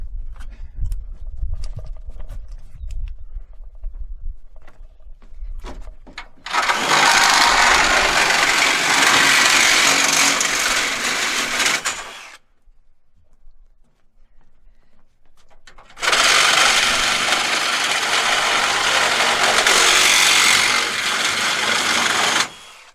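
A reciprocating saw (Sawzall) cutting off the legs of an old slide in a basement: two loud, harsh buzzing bursts of several seconds each, separated by a short quiet pause, after a low rumbling start, with no talking.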